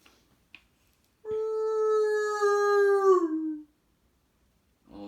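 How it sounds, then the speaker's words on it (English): A single long, shuddering howl rises and holds for about two seconds before sliding down and fading, clear and isolated against near silence, used as a sound effect in a story reading. "All of a sudden they heard a loud howl away downhill. A long, shuddering howl."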